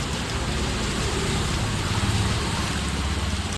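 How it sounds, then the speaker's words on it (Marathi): Rain falls in a steady, even hiss that goes on without a break, close and moderately loud, with no voices over it. "पाऊस बघा."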